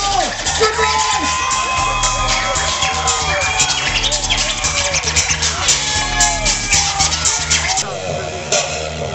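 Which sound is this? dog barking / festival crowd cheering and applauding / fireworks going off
festival crowd cheering and applauding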